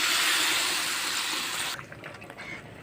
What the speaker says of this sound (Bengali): এখন জল দিয়ে দিচ্ছি, মশলা বাটা জল।